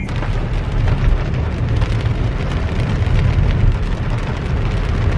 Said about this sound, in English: It's raining right now.